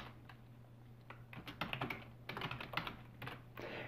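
Quiet, close keystrokes clatter on a computer keyboard in uneven bursts of rapid taps with brief pauses between, over a faint low electrical hum.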